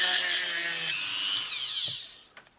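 A power drill whirs loudly up close, opening a hole in a model chassis to 2.5 millimeters, its motor pitch sliding down as it spins, then stops, followed by a couple of light taps.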